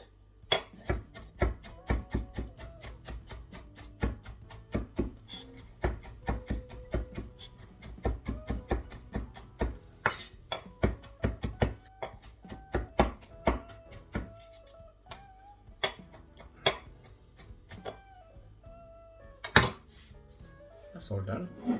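Gherkins are chopped on a board for tartar sauce, giving a long run of quick, crisp knife taps at an uneven rhythm. The sound is close and moderately loud, with occasional heavier thunks.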